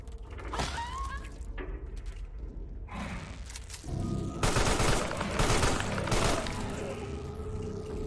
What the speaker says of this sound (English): Human wastes its ammo.